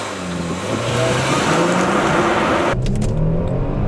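A Kia Stinger GT 370 hp V6 engine roars steadily at high revs, then abruptly shifts character as the car launches hard using launch control, loud and close.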